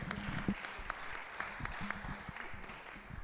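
An audience claps after a public lecture by a UNESCO regional director, a fairly faint, scattered patter of hands with a low voice murmuring underneath.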